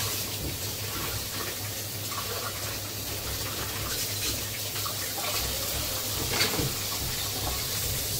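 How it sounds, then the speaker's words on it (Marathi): Crabs being rinsed under a running kitchen tap, with a steady, close splash of water pouring throughout and no talking. "चांगले स्वच्छ असे मी धुवून घेते."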